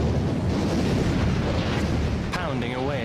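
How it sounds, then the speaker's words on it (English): Naval bombardment of the Normandy coast by battleships, cruisers and destroyers: a dense, continuous roar of heavy gunfire and rumbling, with a warbling tone surfacing near the end. "200 ships bombard 50 miles of the Normandy coastline"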